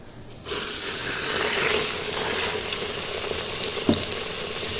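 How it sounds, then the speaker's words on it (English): Cube steaks for chicken fried steak hitting hot oil in a pan: a sudden loud hiss that settles into a steady, crackling sizzle, with a brief sharp pop near the end. "once this starts to really start sizzling, we're gonna go ahead and start cooking these cube steaks"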